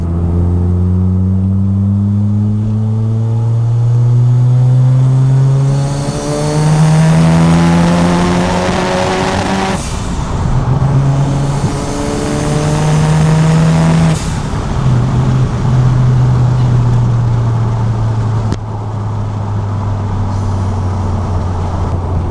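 A 480BHP Mazda RX-7 accelerates hard down a straight. The loud, close engine note climbs steadily in pitch, dropping sharply at each of several gear changes before rising again.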